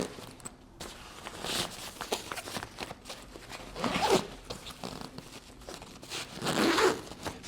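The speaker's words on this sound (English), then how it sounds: "Zippers close nicely." A zipper being pulled closed on a tomtoc 40L travel backpack, several quick rasping zips in bursts, close to the mic, with soft handling rustle between them.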